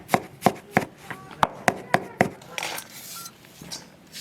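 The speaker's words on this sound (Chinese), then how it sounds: "切好的洋芋萝卜丝切碎" A knife chops shredded potato and carrot on a board: about nine crisp, evenly spaced knocks, close and distinct, followed by a few softer, scattered taps.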